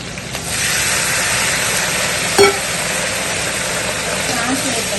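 Green chillies and prawns fry in a hot pan with a steady, loud hissing sizzle throughout, broken once by a brief utensil clink near the middle.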